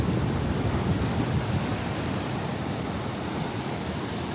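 Surf at a beach in Durban, South Africa, a constant broad wash of breaking waves and wind, heard steadily from a distance with no voices.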